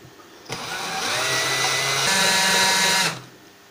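A power drill fitted with a three millimetre bit starts up abruptly and runs at a loud steady whine for about two and a half seconds. Its pitch shifts once midway before the drill stops sharply.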